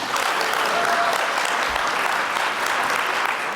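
Steady, dense applause from the audience at a UNESCO youth forum on transforming education, loud and continuous for the whole stretch with no talk over it.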